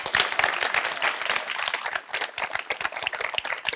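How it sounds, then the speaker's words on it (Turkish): Audience applause at a lecture, a lively mix of crisp individual claps over a broader crowd patter, fairly close and uneven in intensity, dipping briefly midway before picking up again. "Bir alkış."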